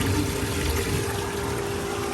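Dirty backwash water gushes from a pool sand filter hose in a steady, noisy rush of flowing water with no pauses.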